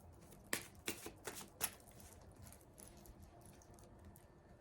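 A deck of tarot cards is cut and handled, giving a few quick, crisp papery snaps and shuffles close by in a quiet room, with no talk.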